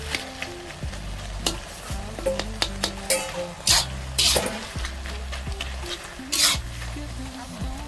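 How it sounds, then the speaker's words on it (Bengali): Vegetables for a village-style chorchori are stirred in a hot pan, with repeated scraping strokes and bursts of sizzle over a steady frying hiss, no voices. "এখানে সবজিগুলোকে একটু আমি এখানে ঘেঁটে নিচ্ছি।"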